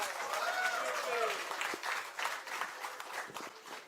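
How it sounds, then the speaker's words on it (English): Applause from a crowd, steady clapping that fills the space and slowly thins out toward the end. "Once again, a big round of applause to Marcus"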